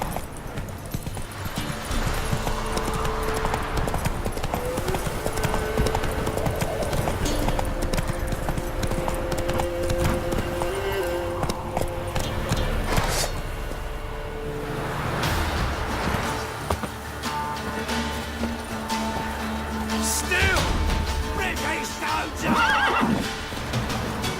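Roach the horse in The Witcher 3, galloping hooves in a steady clip-clop rhythm with repeated loud neighs and whinnies, continuous and close, mixed with game ambience and a brief voice.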